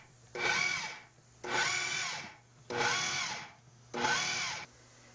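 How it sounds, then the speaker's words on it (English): A food processor pulses tuna tapenade in four even bursts, each a loud, close whirring buzz lasting about a second, with short quiet gaps between pulses. "You just want to pulse it so it's really well mixed, but it still has some texture to it."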